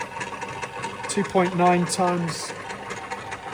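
A rolling element bearing defect test rig in a dynamics lab whirs steadily as its shafts turn at a few hundred RPM, a continuous mechanical hum under a person speaking.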